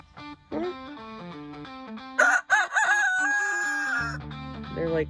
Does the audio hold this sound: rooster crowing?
yes